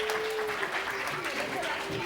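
A children's science event audience applauds a bronze medal winner, with a continuous patter of clapping heard under talk and a steady background tone.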